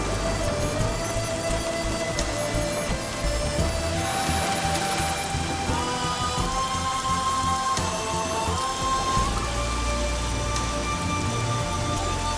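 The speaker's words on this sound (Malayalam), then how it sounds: "മഴ തോരും തോന്നില്ല, നമുക്ക് പോവാൻ മതി." Rain falls steadily, a constant dense patter on surfaces that fills the whole stretch evenly, with no talk heard over it.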